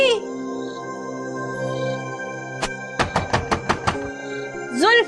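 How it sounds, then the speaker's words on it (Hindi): Knocking on a door, a quick run of about seven sharp raps at close range after a single earlier knock, set against steady background sound in a TV drama scene. "जुल्फी के बच्चे, दरवाजा खोल।"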